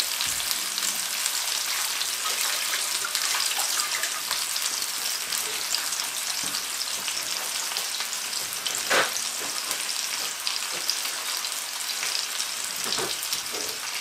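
Sea bass fillets pan-frying, a steady dense sizzle filling the whole stretch with scattered crackles and pops, close and continuous with no talk.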